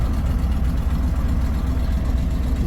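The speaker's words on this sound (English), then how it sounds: "it's running really well. Temperatures getting up there. Idling lovely." A Range Rover Classic LSE engine idles at around 800 to 900 RPM, a steady low rumbling hum heard up close with no talk over it.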